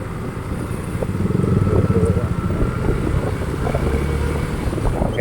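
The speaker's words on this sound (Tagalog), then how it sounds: "Maraming tagpi, kaya patalon-talon ang ating motorsiklo." A motorcycle rides along a rough, heavily patched, pitted road, its engine droning steadily close to the microphone, with wind rush and small jolts as the bike bounces over the uneven surface.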